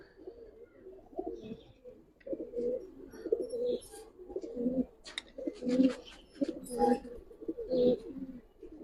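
Silver Giribaz pigeons coo in a series of rounded, throaty bursts, several birds overlapping near at hand, with a few brief sharp clicks and flutters mixed in.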